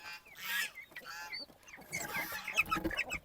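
Broiler chickens cluck and chirp nearby in a quiet barn, with small, high peeping calls from chicks mixed among the clucks.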